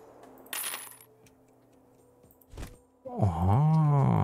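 Coins clink and drop in the tavern management video game Tavern Manager Simulator, one short jingling burst early and another brief clatter later, followed by a loud sustained tonal game sound.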